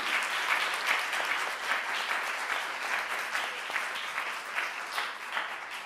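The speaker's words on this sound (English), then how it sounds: "Let's give her a round of applause." After a book talk on youth held at the border, an audience gives the speaker steady, moderately loud applause, a continuous wash of many hands clapping with no speech over it.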